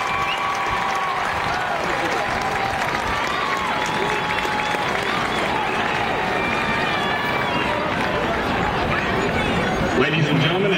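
Sustained round of applause from a seated crowd at a high school homecoming ceremony honoring returning alumni, steady dense clapping throughout with some crowd noise mixed in.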